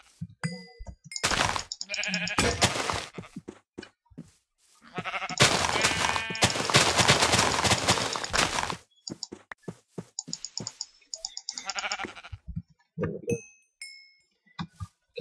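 Several bursts of sheep bleating in Minecraft's Feed The Beast modpack, loud and close, the longest running near three seconds, with small clinks and scattered game sounds between them and no talking.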